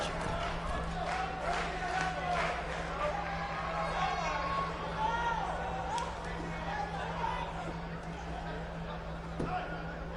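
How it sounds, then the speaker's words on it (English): A sold-out arena crowd in the wrestling video game WWE 2K19 roars and cheers continuously, a dense wash of distant voices and hubbub with a steady low hum beneath it. "We have a sold-out, record-setting crowd here for BCW tonight."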